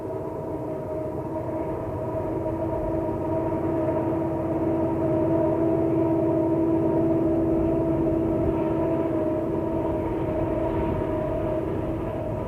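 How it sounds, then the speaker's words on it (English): An ATSF freight train labors up Kingman Canyon, crossing Holy Moses Wash on the Arizona main line, giving a steady, loud diesel drone with sustained horn-like tonal lines held throughout. "The Houston-bound train crosses over Holy Moses Wash as it works up Kingman Canyon."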